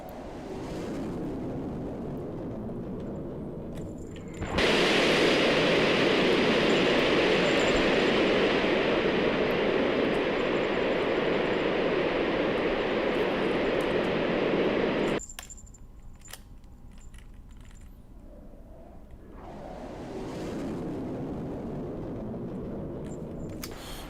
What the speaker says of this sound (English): Go ahead and fire the outboards first. Then the inboards are coming in.